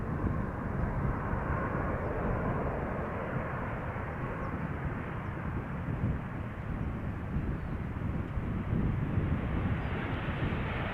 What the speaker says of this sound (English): KLM style landing. Vacating late, keeping up the speed, and rightly so.